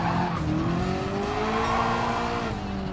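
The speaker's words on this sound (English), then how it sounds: "I like those nice grandpa upshifts as well" A race car in Gran Turismo 7 at Goodwood Circuit roars steadily with engine tones sliding upward through gear changes, and tires squeal faintly beneath the continuous drone.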